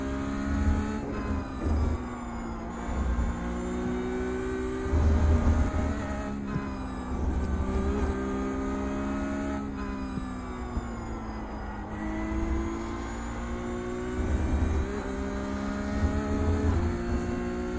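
A Porsche Cup race car at Mexico in iRacing revs and shifts continuously, its engine note climbing and dropping through repeated gear changes, loud and close with no talking.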